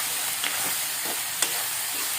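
A ladle stirs brinjal pieces with salt and turmeric in a pan over a steady sizzling hiss, with a couple of faint scrapes and clinks.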